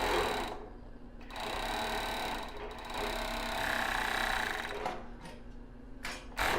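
A sewing machine stitches lace underwear with a lace waistband, close mechanical whirring in several bursts separated by brief pauses, fairly loud and steady while running.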